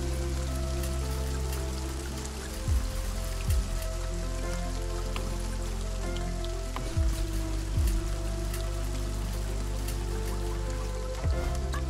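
Steady rain in the video game Kingdom Eighties falls as a continuous patter under a low, sustained musical drone, with a few soft swooping accents and no talk.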